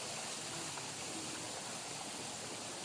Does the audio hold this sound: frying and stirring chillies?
no